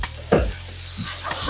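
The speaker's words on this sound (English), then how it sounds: "And as that butter is melting, try to scrape up some of the pieces on the bottom of the pan." A utensil scraping the bottom of a non-stick skillet while butter melts and sizzles, with a few short close scrapes over a steady frying hiss.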